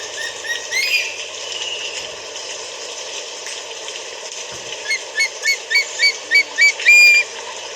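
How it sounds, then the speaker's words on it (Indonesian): An eagle flaps its wings close by, a run of quick, evenly spaced beats building toward the end over steady outdoor background noise. "Ini sedikit ganas elang."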